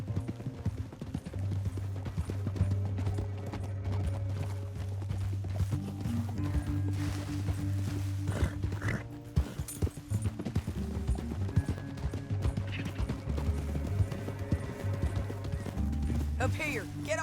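Horses gallop in the video game Red Dead Redemption 2, their rapid, rhythmic hoofbeats running throughout beneath music, with voices talking over them.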